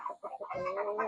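A Light Brahma hen in a backyard farm gives a few soft, close clucks that run into a drawn-out murmuring call, quiet and brief.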